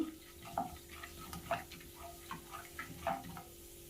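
Chana dal frying in oil in a pan, giving faint, scattered crackles and small ticks at a steady, low level with no one talking.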